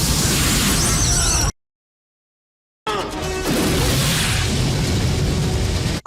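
A movie explosion from Rambo III: a loud, dense blast that cuts to near silence, then a second heavy roaring burst that fills the rest of the moment.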